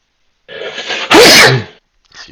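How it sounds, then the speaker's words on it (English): A single loud, explosive sneeze close by, preceded by a short gasping inhale. "He sneezes."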